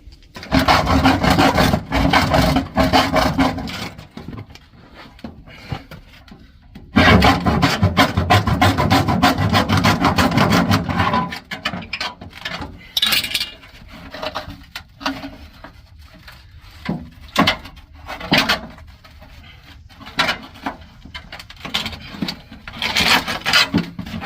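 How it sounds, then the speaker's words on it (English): A hacksaw cuts through a muffler heat shield panel, with loud rasping strokes in long sustained runs, then shorter choppy strokes with brief pauses, heard up close. "I'm going to see if I can just hacksaw it off real quick"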